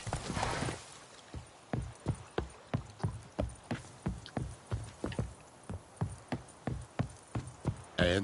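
Roach, the horse in The Witcher 3, walks at an even pace, its hooves clopping in a regular rhythm of about two steps per second, close and distinct over a quiet game background.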